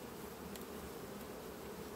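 Honey bees hum steadily around a beehive with production frames, a dense continuous buzz with no voices.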